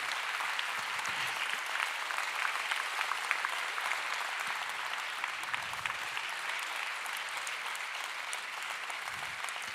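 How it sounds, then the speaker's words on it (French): Sustained audience applause fills a New Year's greetings ceremony hall, a dense, steady wash of many hands clapping at even loudness for the whole stretch, with no talk over it. "On peut effectivement les applaudir bien fort"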